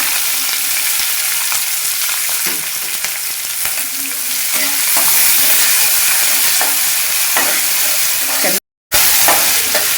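Onions and curry leaves frying in hot oil in a pan for tomato rice, a loud continuous sizzle with occasional soft clinks of the spoon stirring, steady throughout with one brief dropout.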